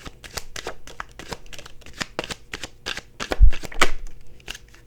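Tarot cards being shuffled by hand, a quick run of crisp riffling flicks in close succession, near and fairly loud, with a soft thump partway through and no talking over it.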